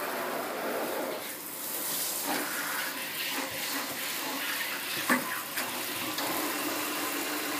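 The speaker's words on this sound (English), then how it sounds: "Oh, he splashes." A child splashes in bathwater, a continuous wet, running-water rush with a few sharper splashy bursts, close and moderately loud with no talk.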